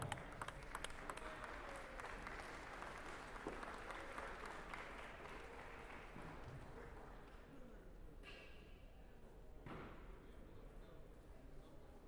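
Applause from a crowd at a table tennis nationals semifinal, steady clapping filling the room with murmuring voices underneath, a few thumps and claps standing out near the end.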